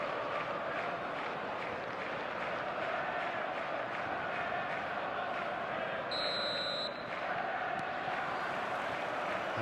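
A match-day stadium crowd in eFootball, a steady dense roar of many voices that stays even throughout, with a brief high tone partway through and a commentator speaking over it.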